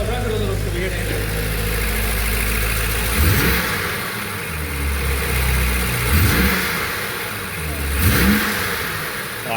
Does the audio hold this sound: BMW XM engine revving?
yes